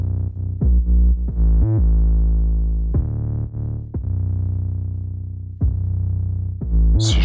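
Loud, sustained synth notes played from an Arturia MiniLab3 controller in Reason Studio 12, with the scream distortion effect giving a thick, buzzy tone broken by short gaps between notes and no talking.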